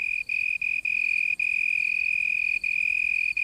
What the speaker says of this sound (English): The leaf is the cricket's soundboard, and the sound produced is magnified in intensity as much as 3 times.